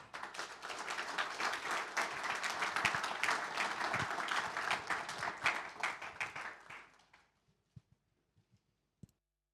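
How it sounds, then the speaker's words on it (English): Large audience applauds warmly at a corporate launch event in Munich as a CEO is welcomed on stage, dense steady clapping for about seven seconds before tapering off into a few scattered claps. "Please give a big round of applause for Mr. Debda Sen."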